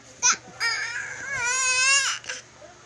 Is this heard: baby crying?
yes